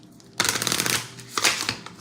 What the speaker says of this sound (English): Ooh, that was a jacked up shuffle.